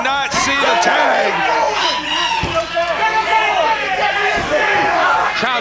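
A wrestling crowd packed into a sportatorium roars and shouts continuously, a loud, dense wall of voices with yells rising above the din throughout.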